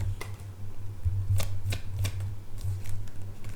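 Tarot cards being shuffled: a few crisp riffling flicks in quick succession, close and moderately loud, over a low steady hum with no talk.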